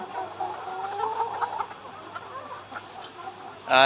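Laying hens cluck softly and intermittently nearby in a coop, with a sharper, louder squawk bursting out at the very end.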